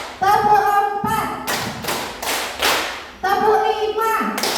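An audience claps in a counted rhythm pattern at an Indonesian gathering, with bursts of loud, sharp, close group claps in quick sets separated by brief gaps, while a leader's voice counts along between the claps.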